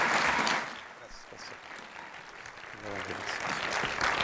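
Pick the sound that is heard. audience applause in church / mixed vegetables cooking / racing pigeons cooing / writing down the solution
audience applause in church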